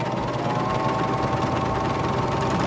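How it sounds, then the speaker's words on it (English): A Baby Lock Vibrant serger stitches a 3-thread narrow seam through medium weight cotton fabric, giving a steady, continuous mechanical hum and rapid chatter with no pauses, close and fairly loud. "I am placing my fabric underneath my presser foot, and I'm just going to stitch to the end."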